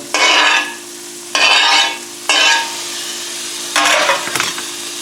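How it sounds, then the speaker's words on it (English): Olives and capers tossed into a hot frying pan, sizzling in four separate bursts of loud crackling hiss, each fading back toward quiet between them, with no talk. "next we throw the olives and capers on"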